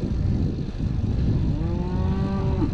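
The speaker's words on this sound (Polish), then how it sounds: "Są i krowy." A single long, low cow moo rises near the end in the Swiss countryside during a bike ride, clear over a steady rumbling background like wind or a passing vehicle.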